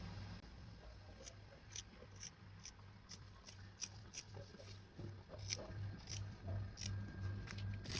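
Scissors cut along the side of a sketchbook cover, giving a close run of crisp, repeated snips with a faint steady hum beneath and no talking.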